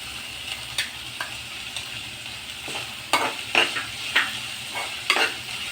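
Tomato sautés in a pan with salt and turmeric added, giving a soft continuous sizzle broken by sharp spoon scrapes and clinks at irregular intervals, close and moderately loud with no voices.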